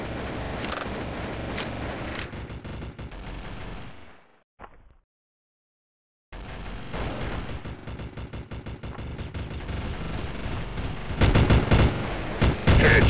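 Gunfire in a 4 vs 4 shooter video game: dense bursts of rapid shots with booms, a brief silent gap in the middle, then heavy firing resumes.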